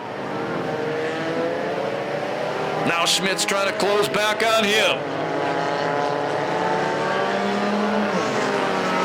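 Mini stock cars race around a figure 8 track at Perris Auto Speedway during a Night of Destruction main event, engines droning steadily under an announcer's continuous commentary, with a louder burst of passing cars in the middle.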